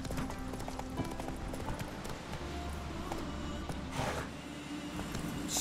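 Horse hooves galloping in The Witcher 3, a steady rapid clip-clop of the mount running across open ground, with ambient game sound around it and no talking.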